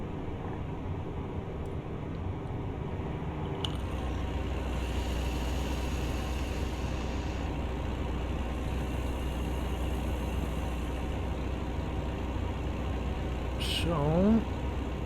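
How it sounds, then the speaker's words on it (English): A truck engine in American Truck Simulator drones steadily at low pitch throughout, a constant rumbling cab hum with faint high whines and a short chirp near the end. "Love the sound of this truck though."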